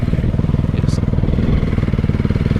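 A small motorcycle rides through mud in the rain at a rally, its engine chugging loudly and close with a steady rapid pulse, a brief splash or hiss in the middle.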